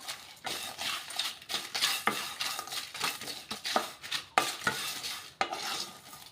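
Raw rice being dry-roasted in a pan while a spoon stirs and scrapes through it, giving uneven bursts of rattling and scraping close up, with no voices.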